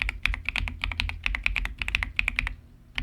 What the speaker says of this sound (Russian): Ну вы поняли, что клавиатура стала громче кратно.